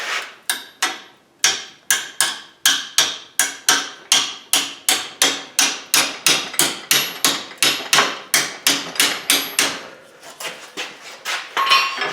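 A hammer strikes metal while a wreath hook is forged, sharp ringing blows in a steady rhythm of about two or three per second, close and loud, continuing for many strikes before lighter taps at the end.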